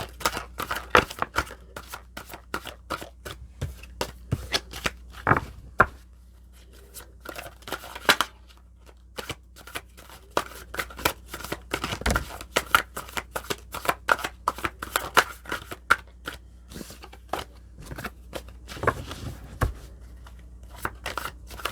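Two decks of tarot cards being shuffled repeatedly, with sharp riffles and taps in uneven bursts, close and clear, no talking.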